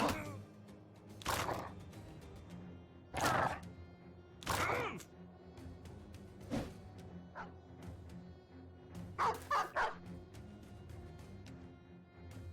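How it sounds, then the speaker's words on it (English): Several dogs bark in the video game Battle Brothers, spaced sharp barks and yips with short gaps over a quiet game backdrop, ending in a quick cluster of barks. "Just a swarm of dogs."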